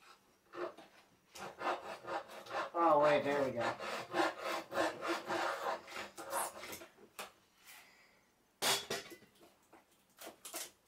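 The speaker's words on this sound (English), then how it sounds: "I think I'm sawing my desk" Steady back-and-forth sawing rasps through a wooden desk close by, strokes coming in quick rhythm, briefly pausing while someone speaks, then resuming.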